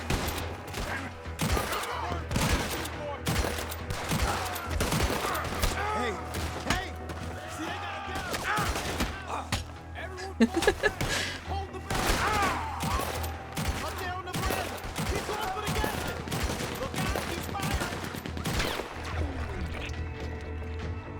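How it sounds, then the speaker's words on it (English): Gatling gun fire in the Red Dead Redemption 2 video game, dense continuous rapid bursts of gunfire running throughout with brief sharper peaks, over steady game background rumble and occasional voices. "You don't get to shoot Arthur with a Gatling gun."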